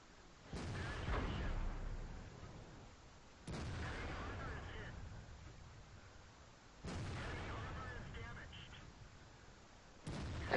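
A T57 Heavy tank cannon in World of Tanks fires HEAT shells, four loud, deep blasts spaced roughly three seconds apart, each ringing out in a long rumbling decay.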